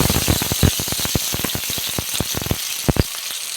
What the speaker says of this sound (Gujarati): બટાકાને થોડીક વાર શેકી લઈશું